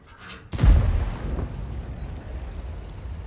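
Single heavy cannon blast from an SU-130 tank destroyer in World of Tanks, a sudden loud boom after a brief quiet lead-in, followed by a long rumbling decay.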